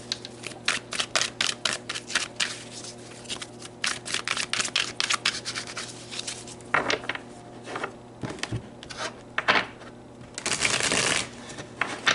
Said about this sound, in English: So let me really shuffle these cards